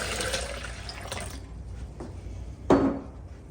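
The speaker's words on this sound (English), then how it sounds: "I'm gonna add some extra water to it." Water is poured into a blender of onion, celery and shiitake slurry for bone and herbal broth. A running splash plays for about a second and a half, then a sharp pouring burst comes near the end.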